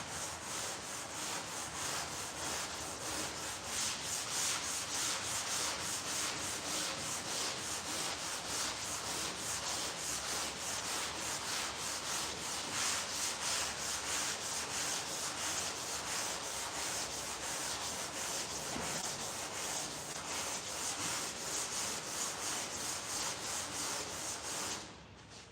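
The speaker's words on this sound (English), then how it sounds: "And the edges like this, they always sand quicker." A sanding block rubbed by hand across a surface in long, steady back-and-forth strokes, a continuous close scratchy rasp that holds an even rhythm and stops abruptly at the end.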